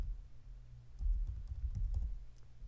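Soft keyboard clicks from typing a search, a few light taps spread over a couple of seconds against a low steady background hum.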